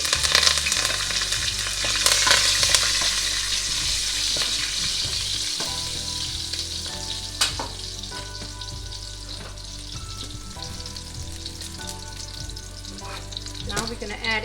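Curry leaves spit and crackle in hot oil in a pan, a loud bursting sizzle that settles into a steady fry with stirring scrapes and a few knocks.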